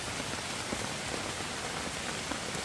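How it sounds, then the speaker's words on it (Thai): Heavy rain pours down in a mountain forest, a dense, loud, continuous hiss of drops striking leaves and ground with scattered sharper patters, steady throughout and with no talking. "ฝนก็ตกมาเรื่อย"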